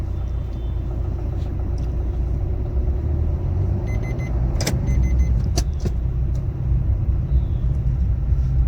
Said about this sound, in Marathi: गाड्यांची वर्दळ या ठिकाणी चालूच असते